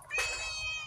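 A cat lets out a single short meow close by, bright and clear, fading into a steady hum afterwards.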